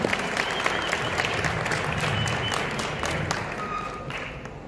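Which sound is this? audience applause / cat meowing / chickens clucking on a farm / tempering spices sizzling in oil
audience applause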